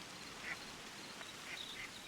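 A duck in the Hytale video game quacks softly twice, short faint calls set against a steady hiss of ambient game noise.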